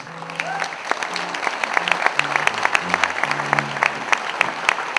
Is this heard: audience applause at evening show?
yes